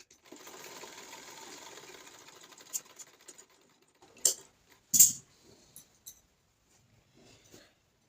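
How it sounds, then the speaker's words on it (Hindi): Sewing machine running a steady line of stitching through fabric for about two seconds, then stopping, followed by scattered clicks, taps and handling of cloth and parts, with no talk. "अब यहाँ पे मैंने स्टिचिंग कर लिया"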